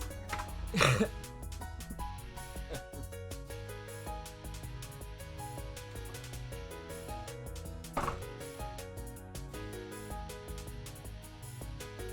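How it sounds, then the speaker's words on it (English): Someone blowing their nose in two short, sharp bursts, one loud near the start and a fainter one later, over steady background sound. "I need to blow my nose."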